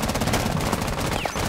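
Rapid close gunshots in Rainbow Six Siege, fired to shoot out a window, crackling loud and dense over the whole short stretch.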